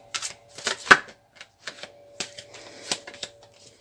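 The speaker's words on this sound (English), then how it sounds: "So I'm also going to pull out 2 of the Romance Angels Oracle cards." Romance Angels oracle cards drawn from a deck, a string of crisp, close card snaps and flicks in uneven bursts with brief quiet gaps between them, and no talk.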